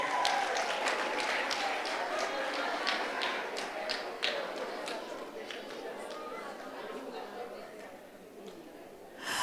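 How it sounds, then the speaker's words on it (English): At a primary school annual awards ceremony, an audience applauds a student with a bright rattle of many hands that slowly thins and fades, with faint chatter underneath and a thump at the end. "Let's give her a round of applause."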